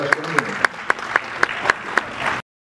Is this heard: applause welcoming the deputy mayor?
yes